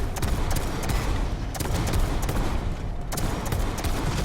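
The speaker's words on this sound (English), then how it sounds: "Death follows the sound of cannons." Cannon fire in a video game booms repeatedly in rapid, irregular bursts, loud and close, with dense rumbling between the blasts.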